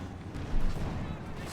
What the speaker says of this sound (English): More mines going off.